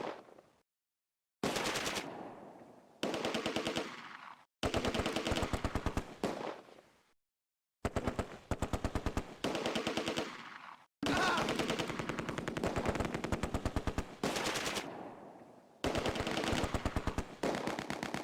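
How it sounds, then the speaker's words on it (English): Machine-gun fire from the WWII game Close Combat: A Bridge Too Far, during the Market Garden Polish drop, rattles in loud, dense bursts separated by short silent gaps, continuing for most of the stretch. "Suppressing fire switches to the German units in the woods."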